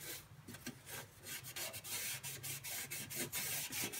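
A blackened gas stove scrubbed by hand with a baking soda paste: steady, close rubbing and rasping strokes in an uneven back-and-forth rhythm, with no talk over it.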